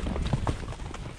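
Horse hooves clip-clop steadily on an outdoor trail during a ride toward a stream, a close, even rhythm of repeated strikes with a faint murmur of voices under it.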